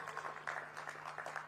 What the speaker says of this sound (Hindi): जोर से ताली बजाइए जरा भूटिया जी के लिए।